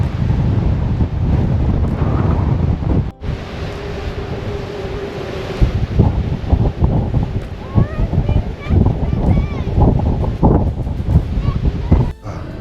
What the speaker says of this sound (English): that was blustery down there